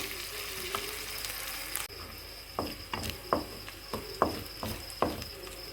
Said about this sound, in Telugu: అల్లం వేగకపోతేనండి పచ్చివాసన వస్తుంది అల్లం వెల్లుల్లి పేస్ట్ అనమాట ఇది